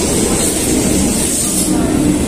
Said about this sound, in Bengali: একে ট্রেন ঢুকছে